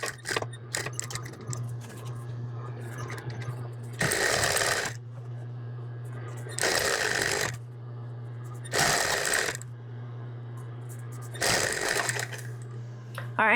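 A sewing machine stitches around the edge of an apron in four bursts of rapid, rattling mechanical clatter, separated by quieter pauses with a steady low hum and small handling noises.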